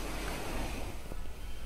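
Water poured onto the bonnet of a new Mahindra XUV 300 during ceramic coating detailing, a loud, dense rushing splash that fills the whole short stretch without any voices.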